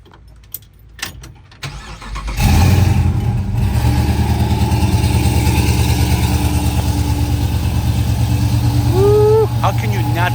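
A 1970 Plymouth GTX Hemi engine cranks and fires loudly, then settles into a deep, loping idle with a steady pulsing rumble, a voice briefly audible before it catches.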